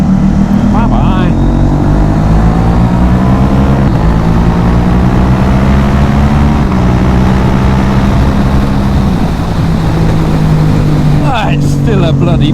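A KTM Duke 790 motorcycle with a decat, ceramic-coated exhaust and booster plug drones loudly and steadily under riding, its pitch rising and falling with gear changes, while a rider talks over it.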